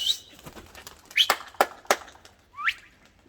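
Blue tumbler pigeons being flown, heard as a few sharp chirps and short rising calls in bursts, fairly faint against a quiet outdoor background.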